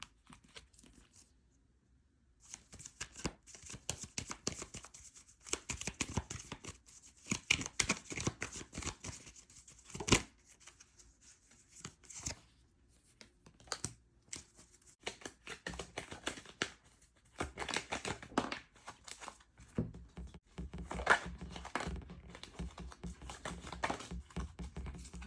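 Tarot cards are shuffled by hand in quick, papery bursts of riffling and sliding, close and fairly quiet, with short pauses between rounds.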